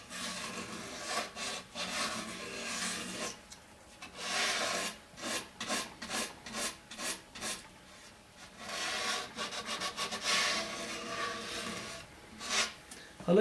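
Coarse sandpaper scraping old glue off the body of a Persian tar, heard as rapid irregular back-and-forth rasping strokes, close and loud, with brief pauses between bursts.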